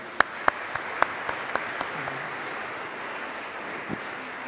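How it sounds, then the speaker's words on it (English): Audience applause closing out an award presentation at an international green solutions awards ceremony, a short burst of clapping that quickly thins to a few scattered claps and fades. "So one last final applause for Nanterre."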